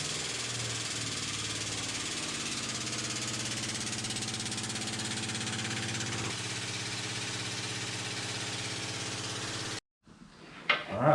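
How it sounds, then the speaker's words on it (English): A Rogue Fab Model 600 pneumatic pipe bender with an air-over-hydraulic cylinder bends its first piece of pipe, making a steady loud mechanical drone with low throbbing hum that cuts off sharply near the end. "First piece of pipe we've ever bent."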